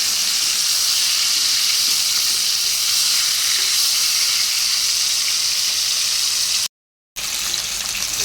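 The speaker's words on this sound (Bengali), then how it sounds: "মাছটা উল্টে পাল্টে ভেজে নিয়েছে" Fish frying in a pan at close range, a loud steady hissing sizzle that holds throughout with one brief dropout near the end.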